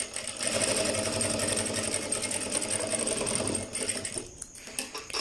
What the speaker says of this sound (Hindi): अब हमने यहाँ पे अपनी सिलाई लगा लेनी है।